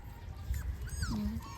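A dog at a house gives faint, brief whimpers and high whines over a low rumbling background.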